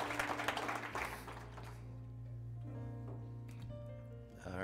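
A church congregation at a baptism service breaks into a burst of applause that fades after about a second and a half, giving way to a steady sustained tone and low room hum.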